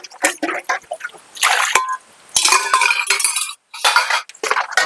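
Dishes are washed by hand in a home kitchen, with close, bright clinks of metal utensils and pots in irregular bursts over trickling water, broken by brief pauses.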